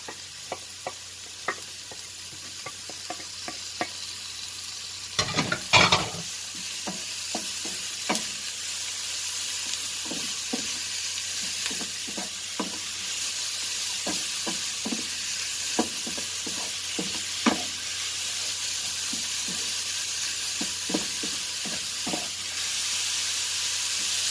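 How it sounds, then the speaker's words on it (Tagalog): Chopped carrots stir-fried in a pan for chicken biryani: a steady sizzle runs throughout, broken by scattered clicks and scrapes from stirring and a short louder clatter near the start, with no talking. "ilagay ko na ang ating carrots"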